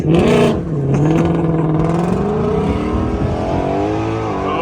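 Ford Shelby truck engine heard from inside the cab, a loud throaty rev that rises and falls in pitch with a sustained low rumble, close and continuous.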